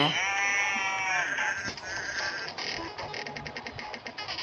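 Several sheep in the video game Deer Man - No Way Home bleat loudly in overlapping, wavering cries, followed by a quick series of shorter bleats close by.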